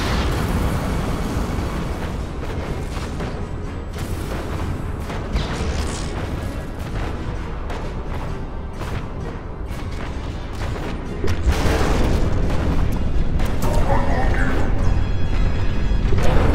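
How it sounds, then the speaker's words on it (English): Explosions and artillery fire rumble from a Planetary Annihilation: TITANS battle, with dense, continuous booms and blasts at moderate volume that swell louder toward the end. "Force is taking fire."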